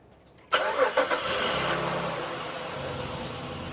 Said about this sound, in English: we're going to go ahead and start her up